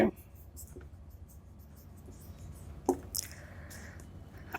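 A pen writes out a chemistry exam question, giving faint, close scratching strokes in short bursts over a quiet background.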